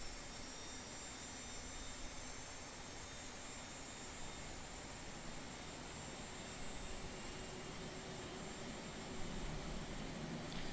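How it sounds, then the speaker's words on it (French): Boeing 737-300 jet engines spooling up in the X-Plane 11 flight simulator, a steady broadband roar with a faint high whine, constant and moderately loud throughout with no talk. "Allez, on démarre l'avion."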